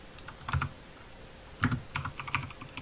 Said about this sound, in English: sorry for my loud keyboard